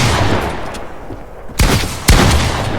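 A pump shotgun fires twice in a video game, two loud, sharp blasts about half a second apart following a stretch of muffled in-game rumble and noise.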